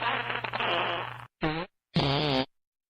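A fart sounds in a live country-music radio broadcast, a long buzzy blast followed by two shorter, toned bursts with brief silences between them, loud and close with no talk over it.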